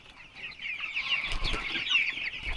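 Chickens cluck softly in short overlapping calls around a homemade plexiglass feeder, close but fairly quiet, with faint scuffling beneath and no talking.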